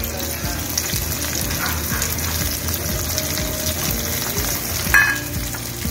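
Steady hissing sizzle of chillies and onion sautéing in hot oil, with occasional stirring scrapes and a brief louder crackle, close and continuous.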